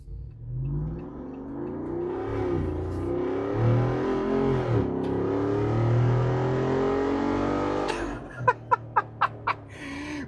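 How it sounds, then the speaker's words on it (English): A 2025 Jeep Wrangler 392 accelerates hard through a turn, engine roaring up in a long rising surge, ending in a quick series of sharp bursts; the squeal of its big tires is not clearly distinguishable. "If you try to punch it around a turn, you'll hear the tires just because they're bigger. They'll squeal just a little bit."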